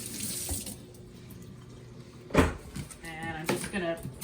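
Tap water runs into a kitchen sink as a sweet potato is rinsed under it, a steady splashing stream with a person talking over it and a few handling knocks.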